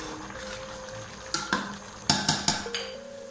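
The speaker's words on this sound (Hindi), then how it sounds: "और अब पुलाव को तेज आंच पर पकाना है" Fish pulao rice cooks in a pot on a high flame, giving a faint, steady simmer broken by several sharp metallic knocks and clinks of a utensil against the pot.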